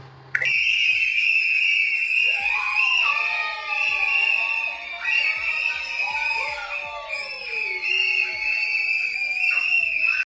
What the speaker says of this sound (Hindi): आप एक बार वीडियो देखिए, सीटी मारते हुए।